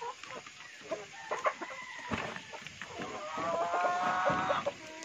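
Chickens cluck and call at a small poultry farm in Leyte, with brief crowing bursts; several birds vocalize at close range in a steady busy chorus with no talking.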